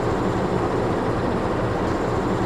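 Inside the Indonesian Cikuray passenger train hauled by a CC 206 diesel locomotive, a loud, steady rumble and roar of the moving carriage fills the space without a break and without talking.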